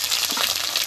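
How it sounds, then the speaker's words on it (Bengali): Chopped tomato drops into a hot pan for fish curry and fries with a bright, crackling sizzle across the whole short moment, close and steady, no voices. "এবার দিয়ে দেবো টমেটো কুচি,"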